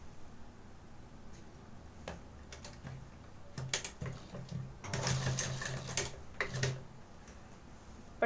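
A sewing machine stitching a half-inch binding strip around a blouse neckline whirs in short, fairly quiet bursts mixed with ticking and clicking, with no talking.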